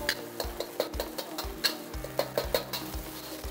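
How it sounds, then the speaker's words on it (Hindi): Two eggs being stirred into fifty to sixty grams of hot oil in a restaurant pan for chicken fried rice, with repeated scraping strokes over a steady sizzle, close and moderately loud, no voices. "उसके बाद हम इसमें डालेंगे दो एग अंडे को अच्छी तरह मिक्स कर लेंगे"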